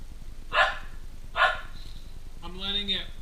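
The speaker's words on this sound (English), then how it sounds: "the dog is upset that she can't have any" A dog, upset at being left out of a Japanese Kit Kat tasting, gives two sharp, loud barks about a second apart, then a higher drawn-out whining yelp, close by with no talk over it.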